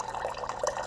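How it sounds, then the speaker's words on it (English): A Von water filter system dispenses a measured 5 ounces into a glass, giving a short, quiet trickle with soft gurgling splashes close by. "Just push the water button here 1 time and it'll dispense exactly 5 ounces for you"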